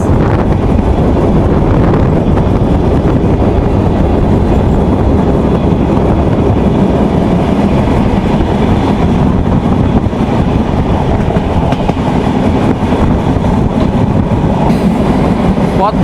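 Ruposhi Bangla Express train running steadily along the rails, a loud continuous rumble with wind buffeting and faint clickety-clack from the wheels throughout, no talking.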